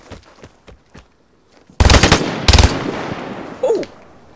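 M16 rifle fire in the survival shooter Vigor: faint distant shots at first, then two loud close bursts of rapid fire with a lingering tail and a brief tonal effect afterward.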